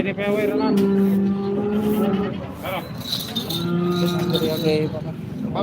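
Cows at a cattle market moo in long drawn-out calls, two loud nearby bellows separated by a pause, amid background voices and market bustle.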